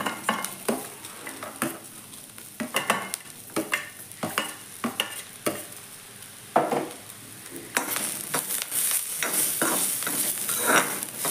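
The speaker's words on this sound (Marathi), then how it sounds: "आपण आता हे आलं, लसूण आणि काजू घालून घेऊया।" Onion, ginger, garlic and cashews fry in a pan for masala matar paneer, a steady close sizzle broken by repeated scraping stirs and occasional clinks of a utensil against the pan, growing louder and busier toward the end.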